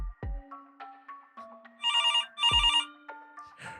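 A phone ringtone trills in two loud bursts, each about a second long, over a sparse electronic musical backdrop with low thumps, in a dark spooky-story setting.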